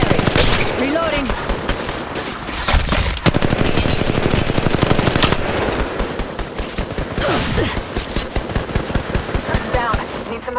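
Sustained rapid-fire automatic weapons in Apex Legends, loud and relentless over ten seconds, overlapping bursts forming a near-continuous rattle with occasional brief gaps.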